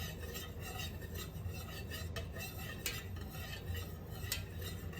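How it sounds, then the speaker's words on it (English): A utensil stirs fragrance oil into melted candle wax in a container, a soft continuous scraping and swishing with faint clinks, close and quiet with no talk. "So I stir a little going to the right, then I change position to the left, and I stir a little slower."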